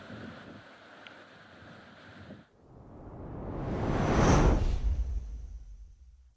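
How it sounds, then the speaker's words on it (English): Strong afternoon wind on safari in Amakhala, Eastern Cape, buffets the microphone in rough gusts, dipping briefly before building into a loud, roaring surge that slowly fades. "It's a very, very windy afternoon"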